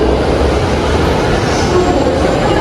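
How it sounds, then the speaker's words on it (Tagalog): A Manila LRT light rail train rolls along, producing a loud, continuous rumbling roar with rattling wheel and carriage noise that holds steady throughout, heard from inside or close by. "ito yung pinakamaluwag na LRT"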